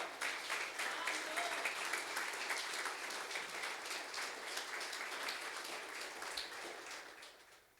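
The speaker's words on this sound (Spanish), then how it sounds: "Él merece otro aplauso hoy." A church congregation applauds during a special Sunday service, steady dense clapping that holds for several seconds before slowly tapering off, heard alone without speech.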